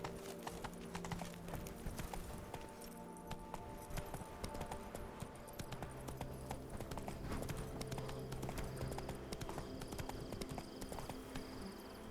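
Roach, a horse in The Witcher 3: Wild Hunt – Blood & Wine, trots along with a steady, continuous clip-clop of hooves, close and clear over ambient game sound, with an occasional snort or whinny.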